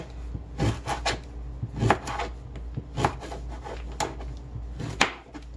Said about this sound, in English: just cut it up into little chunks. Put a little pressure on your knife through those stalks